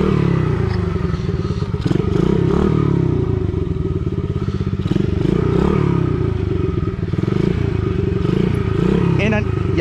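A gas dirt bike is kick-started and then runs with a loud, rough, uneven engine rumble, close by, with clattering and thumps over it and a voice talking throughout.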